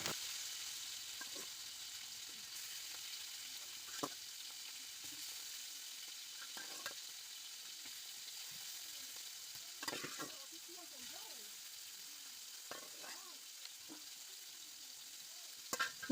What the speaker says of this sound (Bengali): এই পাশের চুলাটা আমি হচ্ছে মাছ ভাজতেছি